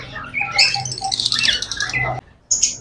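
Fancy imported birds in a bird shop chirp and tweet in rapid overlapping bursts, close and bright, with a brief quiet gap before more calls.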